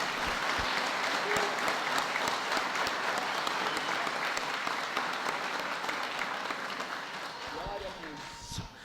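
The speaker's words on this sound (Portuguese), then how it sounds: "pode aplaudir que é para o Senhor" A church congregation applauds at a Protestant service in Umarizal marking the Reformation's 500th anniversary, dense sustained clapping that slowly tapers off, with voices mixed in.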